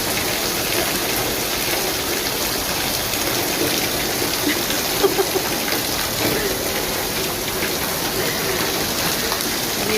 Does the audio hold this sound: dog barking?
no